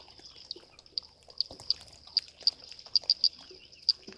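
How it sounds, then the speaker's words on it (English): Rainwater drips onto an outdoor wildlife camera in sharp, irregular ticks and taps, a dozen or so close drops over a steady high insect-like hum in the background. "I think that's just water dripping on the actual camera itself."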